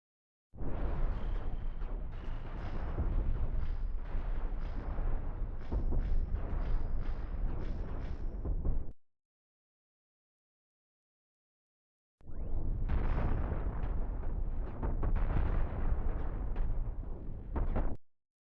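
Ship weapons firing in the space game Cosmoteer, a dense, continuous barrage of booming blasts and crackling impacts, loud and sustained for about nine seconds, then a short silence before another long volley.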